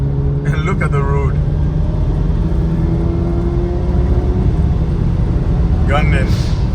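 A BMW 335is engine pulls under acceleration on a road at night, a steady close engine drone with a low hum that holds through the whole stretch, with brief voice sounds near the start and end.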